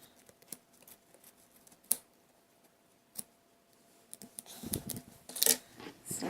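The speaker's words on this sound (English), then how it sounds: "you're just going to cut at the same point in the yarn, and you cut the yarn" Scissors snip loom-knit yarn while a cabbage patch hat is worked on a knitting loom, giving faint scattered clicks and then a quick run of louder, close snips near the end.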